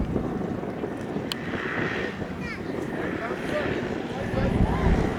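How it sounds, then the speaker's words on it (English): An Evolution Aircraft REV XS makes a low pass during a high-wind demonstration, its engine drone rising under gusty wind noise while a commentator speaks over it. "Amy Mednick, an excellent pilot, doing a low pass for us."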